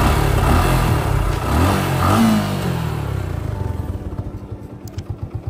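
A 2020 Suzuki Gixxer SF motorcycle starts up and runs. Its engine rises in a loud rev, then settles into a steady, close idle with a pulsing rhythm that continues to the end.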